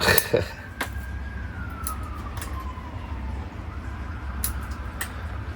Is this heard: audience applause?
no